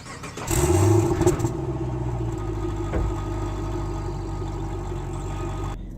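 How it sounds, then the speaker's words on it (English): A 2015 Chevrolet Camaro SS convertible fires up with a brief loud rev, then settles into a steady deep idle that rumbles on evenly, close by and without talk. "you can also see the car idling right there"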